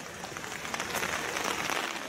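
Rain falling during an outdoor liberation commemoration ceremony in Sluiskil, a faint steady hiss of drops with a few soft patters, no voices.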